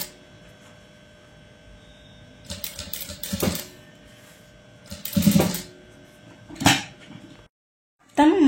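Sewing machine stitching fabric piping with lace in short separate bursts, each run of stitching loud and close, with a low steady hum between runs and a brief silence near the end.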